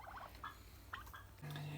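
Bronze and lilac domestic turkeys in a farmyard, a few short gobbling bursts at middle distance, separated by pauses, with a low steady hum beneath.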